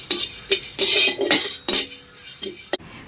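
Whole spices dry roasted in an empty wok, sounding as bright scraping and metallic clinks from a spoon or spatula against the pan in short, irregular bursts, close and fairly loud.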